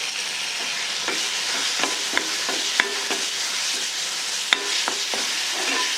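Mint-chili paste being stirred and sautéed in a hot pan: a steady frying sizzle with a scatter of sharp scraping clicks from the spoon against the pan, close by and without talk.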